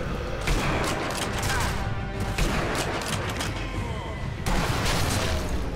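Gunfire in the video game Sniper Elite V2, a dense, continuous barrage of loud shots and bursts with short lulls, layered over constant battle noise.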